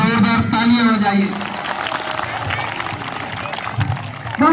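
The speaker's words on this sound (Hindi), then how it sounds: "अगर प्रस्तुति पसंद आई तो जोरदार तालियां बजाइए" Audience applause after a school Republic Day performance at Kendriya Vidyalaya Umaria swells as a dense patter of clapping, with voices speaking over it at the start and end.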